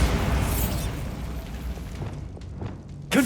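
Bombarda blasting spell explosion in Hogwarts Legacy: a loud, booming blast that rumbles and decays over a few seconds, ending with a sharp fresh burst.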